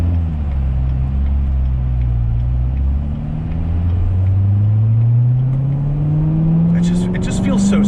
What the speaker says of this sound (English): I could hear that supercharger whine.